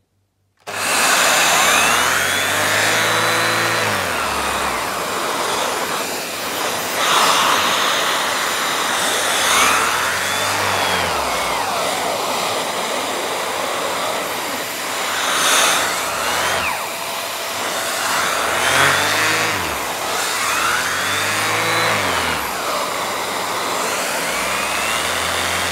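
A VAX Air Stretch Pet Max vacuum cleaner runs continuously with a loud, steady whine and rushing airflow, its pitch swelling and dipping periodically as it works, with no talk over it.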